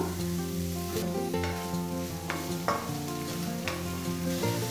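Chopped cabbage, beans, carrot and capsicum stir-frying for chicken fried rice, a steady close sizzle with scraping stirs and a few sharp clatters, steady harmonic tones running beneath, no talking.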